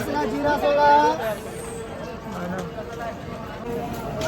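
Passengers getting off a crowded train at Chiplun station make a steady murmur of voices and shuffling movement, with someone talking close by.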